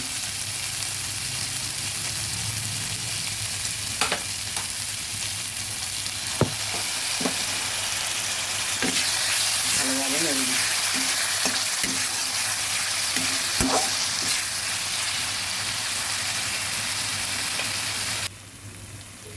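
Steady sizzling of prawns frying in a pan with turmeric and salt, with occasional clinks and scrapes of stirring, continuous and close throughout.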